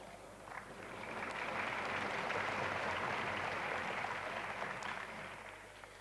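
A large audience applauds at an all-Pakistan student conference, a dense, steady wash of clapping that swells in and holds for several seconds before easing slightly, heard from within the hall.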